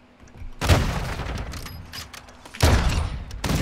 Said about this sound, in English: Oh, he sniped me midair.